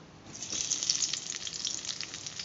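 Chopped onion drops into hot oil and bursts into a sharp, close sizzle that rises quickly and holds as a bright crackling fry.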